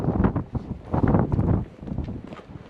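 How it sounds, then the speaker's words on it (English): Strong wind buffeting against a microphone during a sandstorm outdoors, loud rumbling gusts rising and falling over a few seconds, close and unbroken. "There's too much wind over here"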